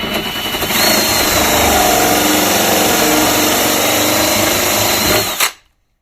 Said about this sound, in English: If you're running a battery drill like I am, don't remove the drill.